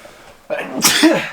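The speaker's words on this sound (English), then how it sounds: "I'm gonna sneeze." A single sharp sneeze bursts out after a brief quiet moment, close and loud, with a breathy intake leading into the explosive release.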